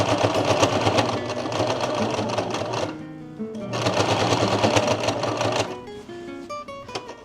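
A sewing machine runs up close, stitching fabric in two long bursts of rapid rhythmic clatter separated by a brief pause, then slows to a few individual stitches at the end.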